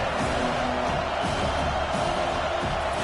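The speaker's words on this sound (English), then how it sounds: "The roar of the crowd trying to fuel this defense to keep them pinned in their own end." Stadium crowd in the College Football 25 video game, a dense, continuous roar of many voices holding steady and loud throughout, with a faint voice underneath.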